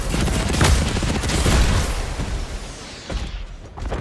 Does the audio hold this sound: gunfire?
yes